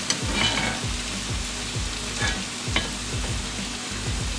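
Goat brain sizzles in hot masala in a pan, a steady loud fry with repeated scraping stirs of a spoon at an even rhythm throughout, no voices.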